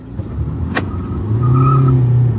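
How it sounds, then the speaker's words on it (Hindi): A Hyundai Creta and a Kia launch hard in a drag race with wheel spin, one sharp transient followed by a loud, rising engine roar as the cars accelerate. "भाई व्हील स्पिन मारा, क्रेटा आगे निकल रही है।"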